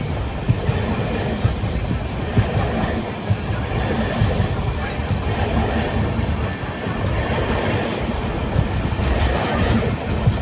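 A loud, constant rumble inside a crowded moving train from Rajkot to Mithapur, with rattling wheels and occasional clicks and squeaks, and faint voices now and then.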